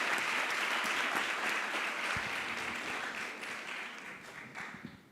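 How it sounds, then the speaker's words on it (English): A conference audience applauds, the dense clapping fairly soft and steady before gradually thinning and fading toward the end. "a round of applause for Jeff Weingart"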